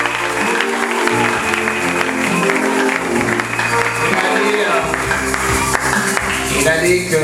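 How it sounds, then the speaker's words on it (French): A church congregation applauds during a worship service, continuous loud clapping from many people blended with sustained organ or keyboard tones and crowd noise throughout. "Applaudissez pour le Seigneur."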